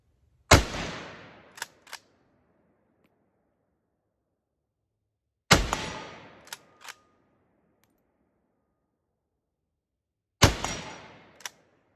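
Swiss K11 straight-pull rifle fired on an outdoor range at steel targets: three loud, sharp reports spaced about five seconds apart, each followed a second or so later by two faint metallic pings from the steel.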